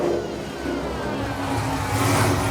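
A Chevrolet Camaro ZL1 1LE engine revs up close, a loud mid-range roar that rises and swells toward the end, with no voices.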